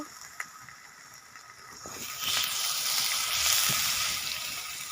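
Cumin paste sizzling in a hot pan for vegetarian aloo dum, with the hiss swelling into a louder, steady broadband sizzle as a little water is added halfway through, close and without talk.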